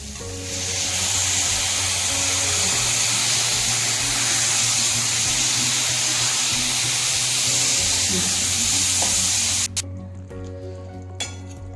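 Bitter gourd frying in a pan with tamarind juice poured in, a loud, steady hiss and sizzle lasting most of the stretch before dropping off abruptly near the end, with low hum underneath.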